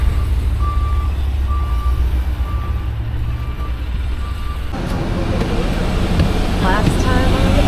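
An old green school bus on a ranch tour emits evenly spaced reversing beeps over a loud, steady diesel engine rumble, close by; the beeping stops partway, and people talk faintly in the background.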